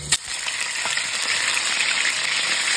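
Small pork pieces dropped into very hot oil, sizzling loudly and steadily after a sharp initial crackle, with continuous bubbling hiss and no talk.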